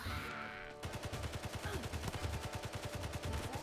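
Machine gun nest firing in the strategy game Tooth and Tail, a rapid, steady stream of loud, evenly spaced shots that starts abruptly after a short quiet lead-in and keeps going to the end.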